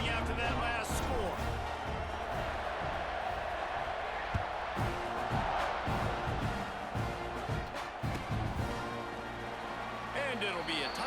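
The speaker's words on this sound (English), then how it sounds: "this crowd is buzzing after that last score" A stadium crowd in the College Football 26 video game buzzes loudly and continuously after a score, with thumps and surges of cheering under the game's commentary voices.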